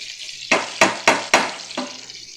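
Garlic dropped into hot butter for buttered shrimp, giving four sharp bursts of sizzling in quick succession and then a fifth softer one, each crackle fading as it is stirred in the pan, close and fairly loud.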